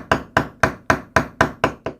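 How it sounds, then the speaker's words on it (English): A hammer drives a glued piece into a handmade wooden toy tractor with eight evenly spaced, sharp knocks, each strike crisp and close with a quick decay. "and then hammer it down"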